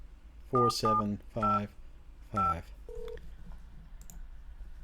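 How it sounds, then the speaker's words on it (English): A phone dials a number with a quick series of distinct touch-tone beeps, five clear tones followed by a short lower tone, with faint background hum. "I am trying to call Elon Omar's phone number"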